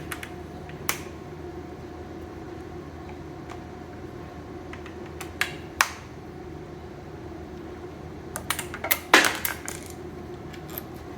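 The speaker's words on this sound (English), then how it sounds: "I dropped the tool like every video" A metal tool used on a Bridgeport mill's front plate while removing cap screws drops and clatters, bouncing several times in quick sharp clinks after a few lighter taps in a quiet workshop.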